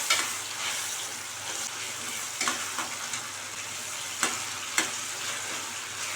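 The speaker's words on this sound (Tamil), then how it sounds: "அதனால் தக்காளி நல்லா வதக்கி விட்டுக்கோங்க." Chopped tomatoes sauté in oil for a South Indian tamarind curry, with a steady sizzle and several scraping stirs of a spoon against the pan. No one speaks.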